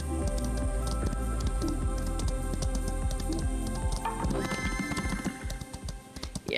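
Hooves of a horse ridden in the game Equinox Homecoming pound out a fast, steady clip-clop throughout. They run over continuous background music and soften slightly toward the end.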